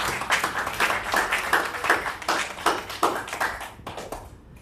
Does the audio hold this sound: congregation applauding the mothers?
yes